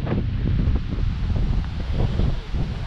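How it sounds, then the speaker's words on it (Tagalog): Strong wind roars and buffets the microphone continuously at a beach campsite, a dense low rumble with gusting surges and no voices. "Sobrang lakas ng hangin ngayon."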